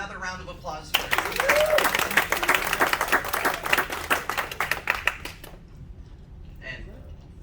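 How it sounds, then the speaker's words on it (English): A magic theatre audience breaks into applause, a sudden dense burst of clapping that holds for about four seconds before fading out, with a voice speaking over the start. "Another round of applause for you."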